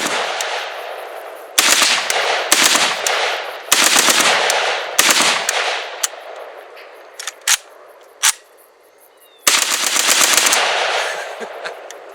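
A Palmetto State Armory AK-47 rifle firing outdoors on a range, loud bursts of rapid shots with short pauses between strings, then a few single sharp reports before another burst, no talking.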